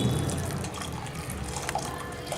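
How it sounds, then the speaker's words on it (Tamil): Boiled jaggery syrup poured through a strainer, a soft, steady liquid pour and trickle, faint and close, with no talk. "இப்போது நம்ம இந்த வெல்லத்தை வடிச்சிடலாம்."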